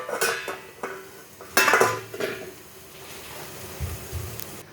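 A plate is set down beside an omelette cooking in a pan in a home kitchen, giving a few close clinks and clatters of dishware with one louder knock in the middle and quieter handling sounds around it.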